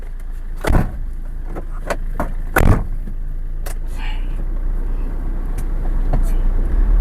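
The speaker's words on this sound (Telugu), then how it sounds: "ఒకసారి టెస్ట్ డ్రైవ్ చేద్దాము, ఒకసారి రండి ఫ్రెండ్స్." Diesel Maruti Swift Dzire on a used-car lot about to be test driven: steady low engine idle throughout, with a few sharp clunks and clicks like doors or handles, under moderate background noise.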